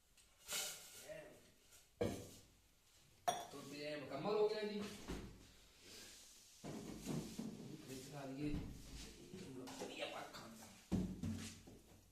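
A pan and dishes are washed before tea is made, with pots clanking, cutlery clinking and bursts of water rinsing, all close and intermittent, while a voice talks over it.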